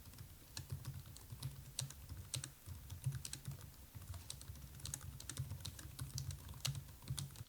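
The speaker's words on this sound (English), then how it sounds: "here is a quick test of the keyboard" Rapid typing on an Asus G14 laptop keyboard: a steady run of crisp, close key clicks with no one speaking.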